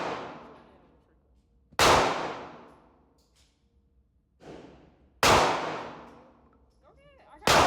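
Two sharp, loud gunshots ring out at a shooting range, each followed by a long decaying echo, with a quieter report and faint voices in between and the start of another shot at the end.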